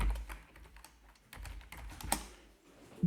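Rapid keystrokes on a computer keyboard as a password is entered, a quick, close run of light clicks with brief pauses between bursts.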